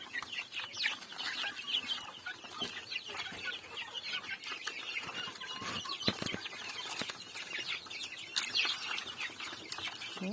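Backyard chickens pecking and scratching at a feed mash of pumpkin, potato and steamed grain, giving a steady chorus of close clucks and busy scratching, with a few louder squawks and light wing-flaps throughout.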